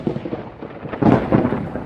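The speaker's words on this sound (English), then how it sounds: "That is some heavy-duty lightning and thunder right there." Heavy thunder from a lightning storm at Epcot rumbles in a deep, rolling swell that builds and peaks midway, loud and without speech.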